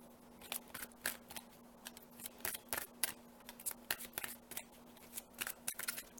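Tarot cards being shuffled by hand, a quiet run of crisp riffling and flicking bursts repeating irregularly over a faint steady hum, with no talking.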